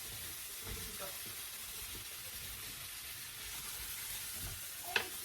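Mushrooms hit a hot pan already holding shallot and garlic for fried rice, giving a faint, steady sizzle and hiss throughout with a small clatter near the end.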